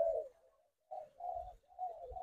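A red-whiskered bulbul crossed with a bông lau bulbul, a captive breeding bird, sings short, clear warbling phrases in three or four quick bursts separated by brief pauses, close and alone.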